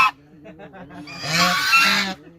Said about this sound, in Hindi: और इस साइड पे ये डक्स रखी हुई हैं।